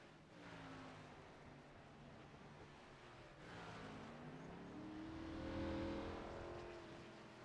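Race cars on an oval track during a Midwest Winston Cup Series event roar past at a distance, engine tones rising and falling in pitch as they go by, fairly faint with no voices.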